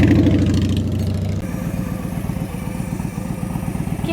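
A motorcycle engine held at steady throttle during slow-turn practice, loud and close, a throbbing mid-pitched drone that settles into a quicker pulsing rhythm partway through.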